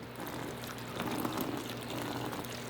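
Water poured from a hose into a black container of coco-fiber reptile bedding blocks, a steady close splashing rush that swells briefly midway and runs continuously without talk.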